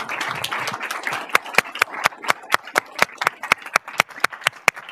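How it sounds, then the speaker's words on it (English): Applause from a lecture audience after a talk on engineering ethics, starting as a diffuse patter and thinning to sparse, separate claps near the microphone that fade out, with no voices. "Let's give Dr. Finelli a final round of applause."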